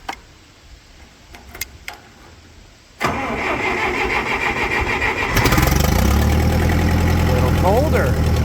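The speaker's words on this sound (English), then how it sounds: "You need keys to turn this tractor on." A Farmall 504 tractor engine cranks with a click or two, catches abruptly and settles into a loud, rough idle that grows louder, its carburetor needing tuning, with a person speaking nearby.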